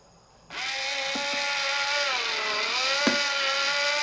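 A Fanttik NEX L1 Pro 3.6V cordless screwdriver on its lowest torque setting whirs up suddenly and runs close and loud, driving a screw into a 3.5-inch hard drive, its pitch sagging under load with a couple of sharp clicks.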